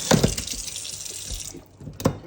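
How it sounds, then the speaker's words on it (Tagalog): Water runs from a tap into a cooking pot in a home kitchen, a bright steady hiss that cuts off midway before a brief splash at the end. "Lagyan natin ng tubig."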